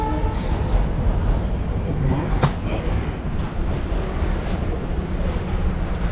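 The 12337 Shantiniketan Superfast Express travelling from Bolpur, heard from on board as a loud, continuous rumbling roar of wheels and carriage that holds steady from start to end.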